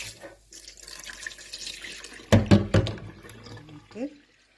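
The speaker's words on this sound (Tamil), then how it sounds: "இதை இங்கே போட்டு நல்லா தண்ணி நாலஞ்சு தான் இந்த உளுந்தை நல்லா கழுவி எடுக்கணும்" Soaked urad dal (black gram) being washed in water in a kitchen: splashing and running water in short bursts, with a few louder sloshes midway, close by and fairly quiet.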